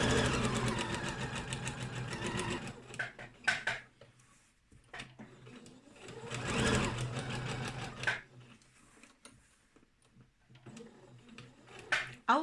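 A sewing machine runs straight stitches through face mask fabric in bursts, a close rapid mechanical whirring that starts and stops three times with quiet pauses between.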